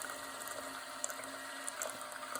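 Keurig K-Mini single-serve coffee maker running as it dispenses hot water, a steady quiet hiss and gurgle of heated liquid with a faint pump hum, low and continuous with no talking.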